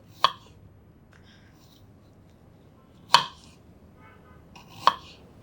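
Three crisp knife chops cut Indian gooseberry (amla) into small pieces on a board, each a sharp isolated knock with long quiet gaps between them.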